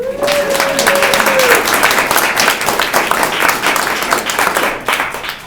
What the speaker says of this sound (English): let's do a little round of applause for Ed.